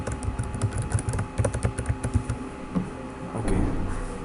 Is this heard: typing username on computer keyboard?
yes